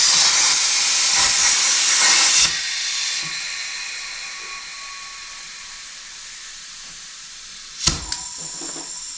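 Compressed air hisses loudly into a Willys suspension air bag for a couple of seconds, then drops to a faint steady bleed, followed by a sharp metallic click near the end.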